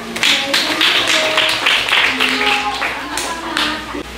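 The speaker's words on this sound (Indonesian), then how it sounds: "Silahkan kasih tepuk tangan dong." Children clapping hands in a classroom, loud close rhythmic claps in quick bursts, with voices of children talking and calling out over the clapping.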